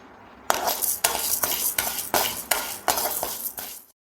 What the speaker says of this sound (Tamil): துவரம் பருப்பை வறுத்துக்குங்க